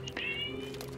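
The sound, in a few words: cat meowing in the video game Enshrouded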